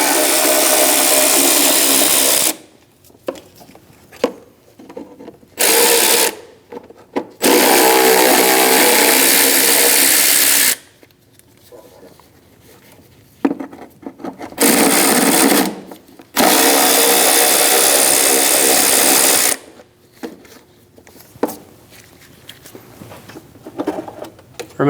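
A power tool with a 10mm socket spins out timing cover bolts on a 2005-2009 Subaru Legacy engine, several loud whirring bursts of a few seconds each separated by quiet gaps, close up and without speech.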